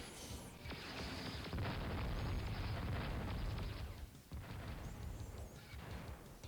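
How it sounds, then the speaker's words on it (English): Rendered explosions, eruptions, lava, rockets and lasers in a student animation showcase, heard as a loud, sustained roaring rumble of blasts that dips briefly and then surges again, with no talking. "everything from the lava, from the lasers, the rockets, the explosions, everything casts light"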